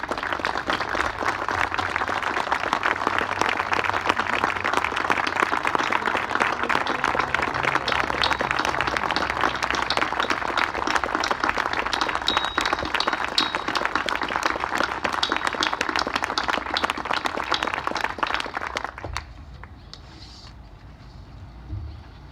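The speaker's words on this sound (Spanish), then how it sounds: "les pido a todos ustedes un aplauso de pie por estos queridos colegas" Standing ovation from an audience, long sustained dense clapping that carries on loudly for nearly twenty seconds before dropping away abruptly to quiet room noise.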